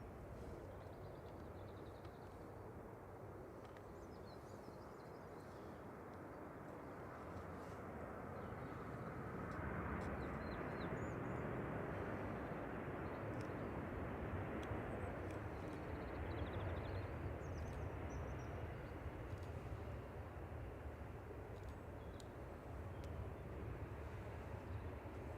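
A TUI airliner at Manchester Airport gives a broad, steady jet roar that swells after several seconds and holds loud and sustained to the end, with no voices.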